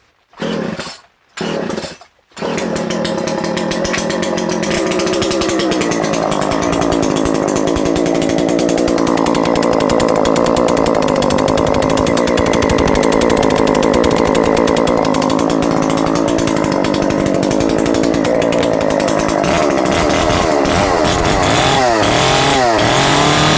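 A Stihl MS250 chainsaw takes two short pulls on the starter cord, then fires and runs loudly and steadily for about twenty seconds. The engine revs up and down near the end.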